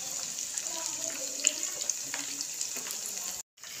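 Chicken leg pieces fry in a pan over a low flame, making a steady, soft sizzle and crackle. A few faint ticks sound before a brief cut to silence near the end.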